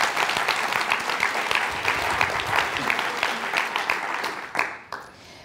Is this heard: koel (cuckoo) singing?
no